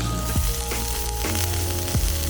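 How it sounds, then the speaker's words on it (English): Chorizo (longaniza) sizzling loudly and steadily on a very hot rock, served at a Mexican restaurant in Costa Rica, heard up close as a continuous crackling hiss. "It's got some sizzling hot chorizo here."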